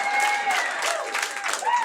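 A stand-up comedy audience applauds and cheers steadily throughout, a dense wash of clapping with a few raised voices cutting through.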